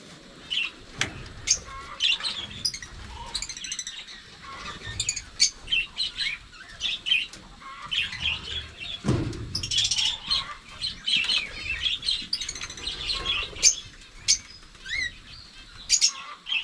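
Farm birds on a rural homestead with turkeys chirp and tweet in scattered bursts while being fed feed, with wing flaps and some louder rustling midway through. No one speaks.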